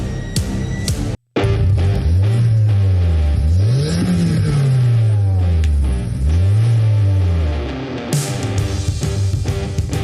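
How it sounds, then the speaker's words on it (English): A car engine revs and accelerates in repeated rising and falling sweeps, loud and close, with a brief cut near the start and no voices. "those car sounds"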